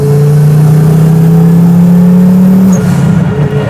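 A Fiat Coupe race car running on LPG revs loudly and close while accelerating, its engine tone climbing steadily before the pitch drops off near the end.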